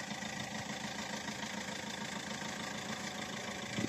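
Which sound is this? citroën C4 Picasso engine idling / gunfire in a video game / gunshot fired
citroën C4 Picasso engine idling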